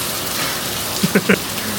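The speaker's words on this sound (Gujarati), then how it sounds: "વરસાદ જો" Steady rain falls in a continuous broadband hiss, with a few brief voiced sounds of a person briefly cutting in partway through.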